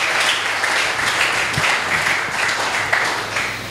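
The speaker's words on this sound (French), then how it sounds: "Est-ce qu'on peut acclamer pour la parole?" A church congregation applauds and cheers at a French-language sermon on sowing, steady dense clapping filling the room for several seconds without a break.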